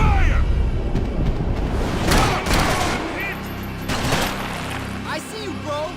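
Rapid bursts of gunfire and explosive booms fill a firefight in the video game Max Payne 3, with dense volleys, sharp shots, and shouting voices over the constant loud combat.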